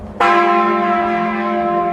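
A single deep bell strikes sharply and rings on, its rich overtones slowly fading, loud and clear with nothing else around.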